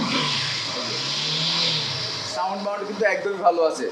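A used motorcycle engine revs close by, its pitch climbing and holding steady for about two seconds before easing off, after which a voice talks over the idling motor.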